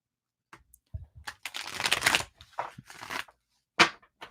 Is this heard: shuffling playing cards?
yes